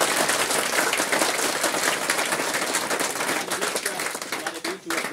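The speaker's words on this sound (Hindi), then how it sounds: "जबरदस्त ताली होनी चाहिए।" An audience claps for a martyr at a gathering, loud dense applause that holds steady and then thins toward the end, with some speech mixed in.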